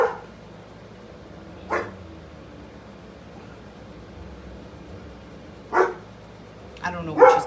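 A dog barks and growls indoors in a few short, separated bursts, fairly close, with quiet stretches between them.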